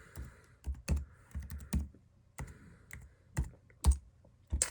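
Computer keyboard typing during a home studio login, a quick uneven run of sharp close key clicks and thumps with short pauses between bursts, no voices.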